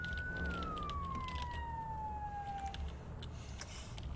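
A video game police car siren sweeps down in a single falling wail, loud and up front over a constant vehicle rumble.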